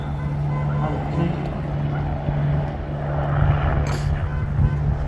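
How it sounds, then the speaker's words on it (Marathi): A steady mechanical drone hums throughout, a helicopter's engine and rotor nearby at a 2024 election rally, with a low tonal buzz and rising wash toward the end. "आलेला आहे हेलिकॉप्टर"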